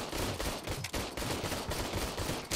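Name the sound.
gunfire at the shooting range in the video game RoboCop: Rogue City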